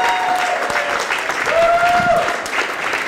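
An audience at a comedy club claps loudly and continuously, a dense wash of applause with a few whoops rising above it.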